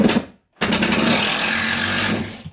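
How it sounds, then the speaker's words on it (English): A power drill with a regular screw tip drives a screw into a sheetrock ceiling patch: a short whir, a brief pause, then a longer steady loud buzz that cuts off sharply. "I don't know if I'm supposed to be driving regular screws in like this with this tip."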